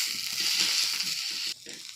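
Onion and coriander stalks sautéing in a pan, a bright steady sizzle with soft rhythmic stirring knocks underneath, the hiss dropping sharply near the end.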